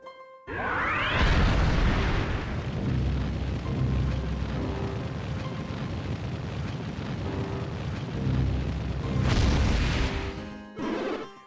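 A fireball attack erupts in the video game Golden Sun: Dark Dawn, a loud sustained roaring blast after a quick rising whoosh, rumbling for several seconds before a second burst flares near the end.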